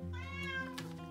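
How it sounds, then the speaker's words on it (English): A house cat lets out a single drawn-out meow, close and clear, rising and then falling over about a second with no talking. "Sorry for the cat,"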